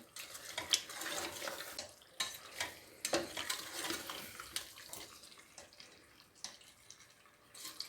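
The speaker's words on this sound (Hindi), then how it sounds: "ये आधे से कम गिलास पानी का जाएगा, ये डालेंगे" Water is poured and stirred into a pan of spiced potatoes and carrots cooking on the stove, with sizzling, splashing and scraping clatter throughout, close and fairly loud, with no voices.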